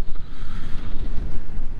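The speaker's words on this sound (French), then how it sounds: "tu viens d'avoir un bel exemple de quand on a une vague sur le côté" A wave slapping against the side of a sailboat at sea on the way to Martinique, a brief loud rushing wash of water mixed with heavy wind buffeting, close up.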